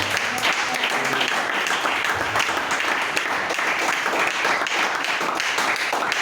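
A church congregation applauds in sustained, dense clapping that fills the space steadily from start to finish, loud and close, with a few voices faintly mixed in underneath.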